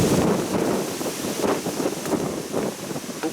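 Strong wind buffets the microphone on top of Dumbarton Rock, a loud, continuous rushing roar with gusty surges throughout and no voices.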